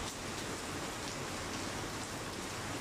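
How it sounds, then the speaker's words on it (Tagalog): Steady rain falls on an afternoon, a dense and even hiss of drops striking surfaces that holds at a constant level throughout with no voices. "Ayan, ulan na naman po."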